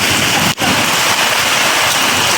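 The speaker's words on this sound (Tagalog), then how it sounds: "Lakas yung ulan." Dense, steady downpour hissing loudly and continuously, heavy rain pounding on surfaces with no break.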